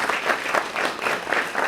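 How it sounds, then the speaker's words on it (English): A brief burst of steady applause from the crowd at an alumni association induction ceremony, honoring the association's board, dense and even with no voices over it. "So can we give a round of applause for the board?"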